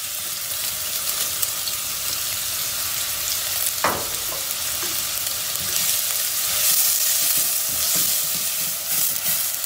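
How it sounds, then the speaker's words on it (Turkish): A medium onion sautéing in half a cup of oil in a pot, a loud steady hiss of frying with an occasional knock and scrape of the spoon as it is stirred. "Soğanımızı karıştıra karıştıra kavuracağız."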